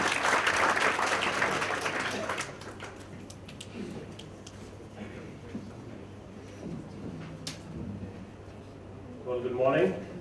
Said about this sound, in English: A big round of applause for Harinath